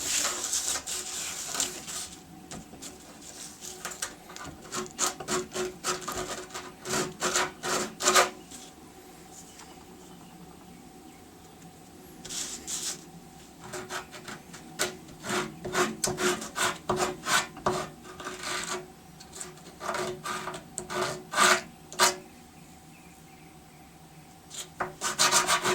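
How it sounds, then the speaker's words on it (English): A wooden fishing lure is hand-sanded in repeated bursts of dry rasping strokes, loud and close, with short quiet pauses between the sets of strokes. "Let's start with doing some more sanding on this."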